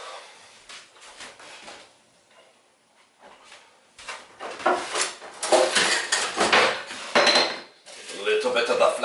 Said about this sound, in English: Now we get out the rolling pin.